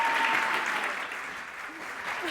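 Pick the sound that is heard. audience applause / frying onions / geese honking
audience applause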